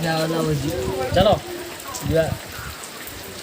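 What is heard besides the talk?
rain falling outside during a wedding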